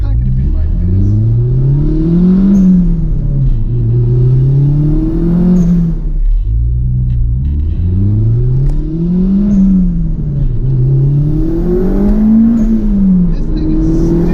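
A 1988 Toyota MR2 AW11 accelerates hard, its engine loud and close from inside the car, climbing in pitch through repeated rising sweeps with brief dips between gear changes.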